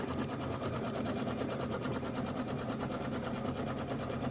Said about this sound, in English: Now it's going to tack down this side and then we're going to do the quilting stitch.